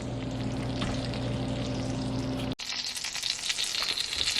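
A frozen trout deep frying in hot bacon grease, a close, steady sizzle that turns into a brighter, crackling hiss partway through.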